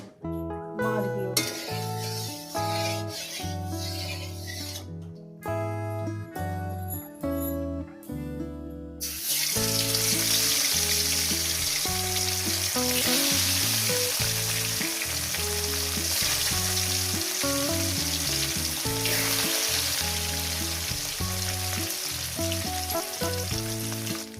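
Sizzling of hot oil in a pan while cooking Bengali katla fish curry with cauliflower; a steady broadband hiss rises sharply partway through and holds loud and continuous, with background music over the first part.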